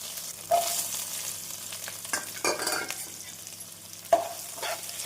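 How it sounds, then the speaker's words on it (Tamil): Steady sizzling of chopped onions frying in hot oil with ginger and garlic for paneer fried rice, with a few scraping stirs of a spoon in the pan. "வெங்காயம் சேர்த்து நன்றாக வதக்க வேண்டும்"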